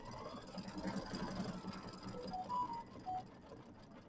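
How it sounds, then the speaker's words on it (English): A sewing machine stitching leaves in light gray thread on a mini quilt, a steady mechanical whir with a low rhythmic stitching pulse and a few brief higher tones. "Put the light gray thread in my needle, and we're going to stitch some leaves."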